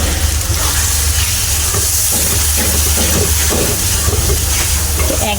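Pigeon meat curry frying hard in oil with tomato going in, a steady loud sizzle and hiss holding evenly throughout with faint stirring scrapes underneath, no voices.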